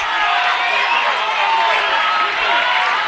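A pumped crowd at a Caged Steel MMA event roars steadily, a dense continuous wall of cheering that stays loud throughout while a commentator talks over it.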